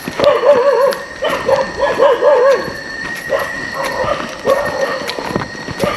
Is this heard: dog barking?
yes